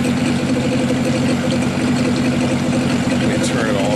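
An outboard motor runs steadily with a constant rumbling drone, close and loud throughout, with no change in pace.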